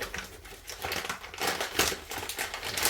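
Plastic packaging on a Bambu Lab X1 Carbon 3D printer's supplies being cut open, a continuous close crinkling and crackling of plastic with no voices.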